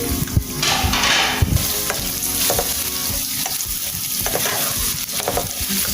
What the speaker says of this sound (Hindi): 3 प्याज लिए थे मैंने और ब्रिक ब्रिक इनको कट कर लिया। फ्राई करते हैं इनको।